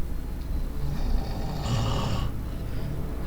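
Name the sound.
person snoring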